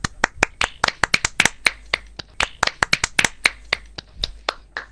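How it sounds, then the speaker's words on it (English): A few people clap by hand, quick and uneven, with sharp individual claps close by and no talk. "let's give a clap"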